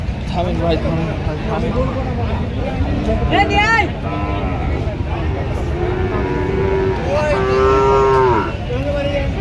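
Bulls and other cattle at a busy livestock market in Joypurhat moo repeatedly, with a couple of short calls and a longer, loud, drawn-out low near the end, over constant crowd chatter and nearby talking.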